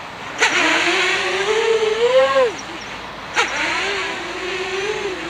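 An FPV drone's motors give two sharp bursts of power while recovering from flips, each a rising and falling high-pitched whine heard up close, the second shorter than the first.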